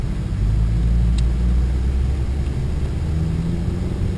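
A truck engine, started after a Jeep was given up, turns over and settles into a steady low rumble that holds close and even for about four seconds.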